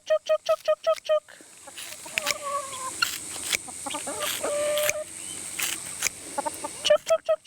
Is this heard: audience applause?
no